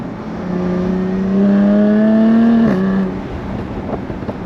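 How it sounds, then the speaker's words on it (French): A 340-horsepower Jaguar F-Type convertible with the top down and its sport exhaust open revs loud and close in a rising, tonal engine note, then drops sharply at a shift and settles lower. "avec vraiment cette option indispensable sur les F-Type, l'échappement sport, c'est juste magnifique"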